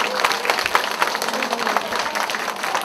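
Applause from participants at a Franciscan summer gathering, a dense burst of clapping close by with a crowd's murmur underneath, steady throughout.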